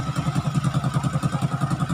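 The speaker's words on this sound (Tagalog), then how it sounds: "Napakatahimik ng makina." A Honda XRM125 motorcycle engine idles after a top overhaul, ticking over in a quiet, even, rapid rhythmic putter with no revving, fairly soft and steady throughout.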